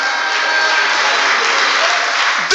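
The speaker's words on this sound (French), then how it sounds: "On applaudit le Seigneur pour ça." A church congregation at an international Christian service claps loudly and continuously, a broad even roar of applause that breaks off abruptly at the very end.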